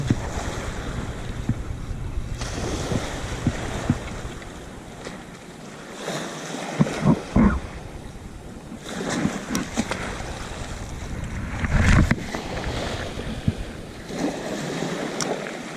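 Strong tidal waves slap against a small fishing boat at sea, heavy wind buffeting the microphone, with repeated splashing hits and rushing water, loud and close throughout.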